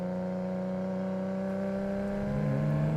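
Toyota Supra Mk4 tuned JDM car with about 930 wheel horsepower pulling hard, a steady high whining engine drone that climbs slightly in pitch near the end, heard from inside the car.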